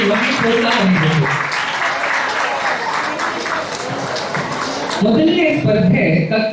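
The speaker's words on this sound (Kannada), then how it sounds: "ಎಲ್ಲರೂ ಜೋರಾಗಿ ಚಪ್ಪಾಳೆ ಕೊಡಿ" Loud, steady applause from an audience at a school annual-day prize-giving, sustained for several seconds, with voices and crowd noise rising near the end.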